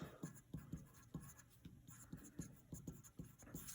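Marker or chalk scratching across a classroom board in quick, evenly spaced strokes, faint and close, with no talking over it.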